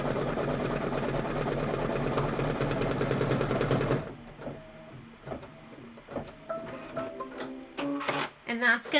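An embroidery sewing machine stitching the scarf fill on a Kimberbell project runs loud and rapid for about four seconds, its fast rhythmic chatter then stopping abruptly, leaving sparse clicks and handling noises.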